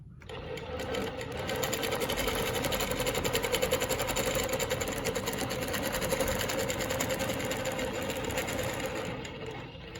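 A longarm quilting machine stitches a Baptist fan pattern, its steady mechanical whir and rapid needle pulses running continuously and close at hand, with no talking over it.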